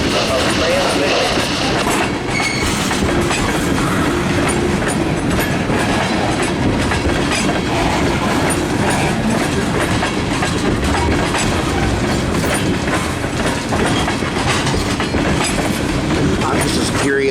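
A CSX freight train of tank cars rolls past close by on the Mount Holly connector main line, its steady loud rumble and rhythmic clickety-clack of wheels over rail joints continuing throughout.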